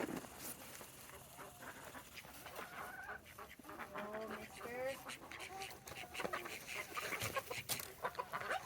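A Cochin Frizzle rooster and other chickens cluck and call in a busy yard, with overlapping bird calls and some quacking throughout, fairly close, while a person talks intermittently over the flock.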